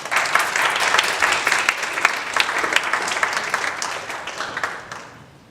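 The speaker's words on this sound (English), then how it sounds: "Monsignor Casale, everybody, please make a round of applause" A university audience applauds as a speaker is welcomed to the stage for an address, a dense sustained wash of clapping that fades out toward the end.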